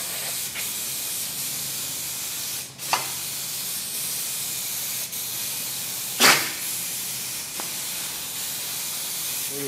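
A spray gun hisses steadily while spraying adhesive for car headliner fabric, broken by a few brief sharper bursts and clicks, fairly close.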